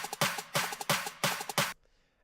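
A Somatics drum build-up loop plays for future bass production: punchy, bright hits repeat in a fast, steady rhythm, loud and close, then stop sharply, leaving a faint tail.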